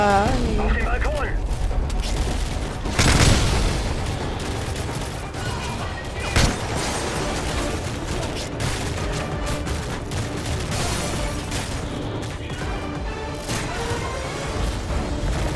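Rapid gunfire bursts and booming shots from the shooter game Modern Warfare 3 crackle continuously, with sharp loud blasts standing out, while a player talks over the action.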